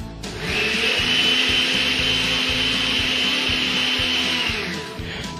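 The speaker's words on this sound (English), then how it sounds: "Put Mr. Blender on puree." A blender whirs at high speed in one continuous, steady whine lasting several seconds, close by, then cuts off.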